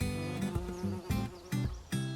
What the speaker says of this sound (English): And it's alive with bees.